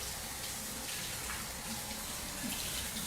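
Water runs steadily from a kitchen tap during handwashing, a faint, even splashing stream with no voices over it.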